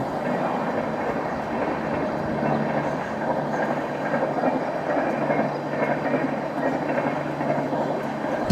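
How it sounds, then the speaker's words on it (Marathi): A mail train rolls past near the Vasai station area with a steady, fairly loud rumble and continuous clickety-clack of wheels on rails, heard without any talking. "आणि ती बघा मेल ट्रेन येते"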